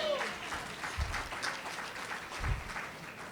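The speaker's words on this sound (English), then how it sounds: "Give him a round of applause" Applause from the audience at a Martin Luther King Jr. prayer breakfast, a moderate wash of clapping with a couple of louder swells, heard alongside voices.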